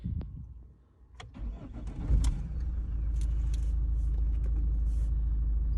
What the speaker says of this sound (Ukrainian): Ну що, пробуємо завести.